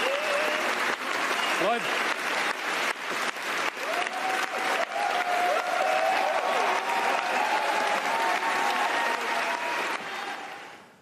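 Sustained applause from a crowd at a party event fills the room, dense and steady for about ten seconds before tapering off. Voices and cheers carry over it, and a speaker's voice briefly cuts through.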